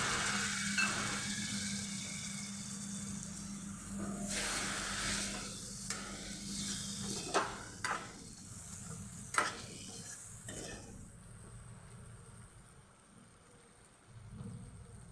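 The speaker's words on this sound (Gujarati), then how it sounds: "આપણે એક ચમચી જેટલું પાણી નાખીશું જે મસાલો આપણો બળી ના જાય" Faint, steady sizzle of masala frying in oil for stuffed parwal (bharva parwal sabji) after a spoonful of water is added, with occasional stirring scrapes and clicks, then quieting toward the end.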